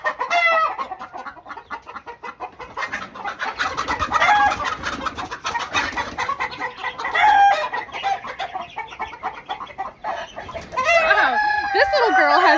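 Backyard hens clucking and squawking close by while being caught and handled for lice treatment, with agitated bursts and a louder protesting flurry near the end.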